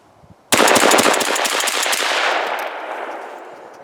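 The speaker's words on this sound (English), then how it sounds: "Let's see how many shots we get off now." Rapid burst of shotgun fire from a Stoeger M3500 semi-automatic shotgun, a string of loud, closely spaced blasts that ring out and decay into a lingering outdoor echo.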